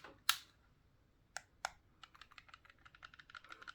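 Buttons and triggers on an 8BitDo Ultimate 2 game controller give sharp isolated clicks, then a quick run of light, evenly spaced taps, close and quiet with no voices.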